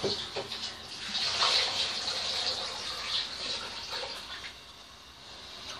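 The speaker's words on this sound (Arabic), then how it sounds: "غنوضع فيها هاد 2 لتر من الماء، 2 لتر بالضبط من الماء" Two liters of water pour into a cooking pot holding a block of sugar, a steady close splashing gush that gradually eases toward the end, with no speech.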